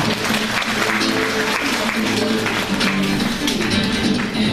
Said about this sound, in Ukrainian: Прошу вас всіх оплесками привітати наших юних учасників і їх дітей